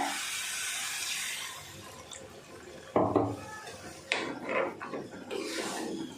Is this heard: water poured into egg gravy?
yes